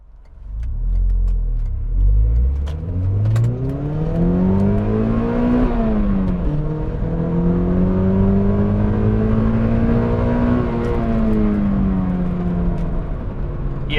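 A Mazda NC Miata fitted with a Goodwin Super Q aftermarket exhaust revs up loudly and close, its engine note climbing, dipping and climbing again in long sustained pulls with no talking.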